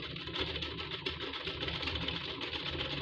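A sewing machine stitches a kameez with a steady, continuous mechanical whir and fine rapid ticking, moderately close and unbroken for the whole stretch, with no talking.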